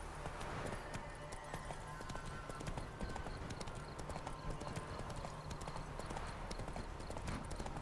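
Rhythmic clip-clop of a galloping horse's hooves in The Witcher 3: Wild Hunt video game, steady and continuous throughout over dense game ambience.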